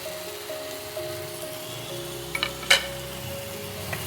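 Pieces of fried rohu fish go into a sizzling green coriander paste in a pan, a low steady sizzle topped by a couple of sharp clattering splashes midway, close and without talk.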